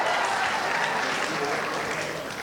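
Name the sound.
applause at graduation ceremony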